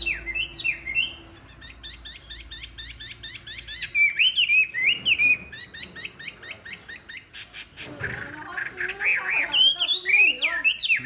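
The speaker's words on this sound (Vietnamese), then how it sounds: "Em sẽ xách nó ra ngoài cho nó hót nhá." A caged songbird sings in loud bursts of rapid repeated chirps and whistled trills, close to the microphone, with short pauses between phrases and faint background noise.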